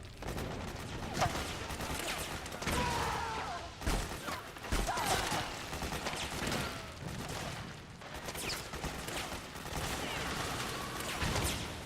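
Automatic AK rifle gunfire in the video game Metal Gear Solid 4, bursts of rapid shots with crashes and impacts in a dense, continuous battle mix.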